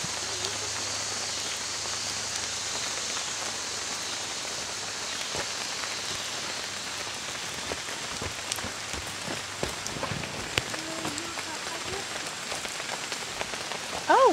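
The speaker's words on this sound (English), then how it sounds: "It's raining on us." Steady rain patters on foliage and the ground in a woodland during a walk, a constant close hiss with scattered heavier drops and rustles, no voices.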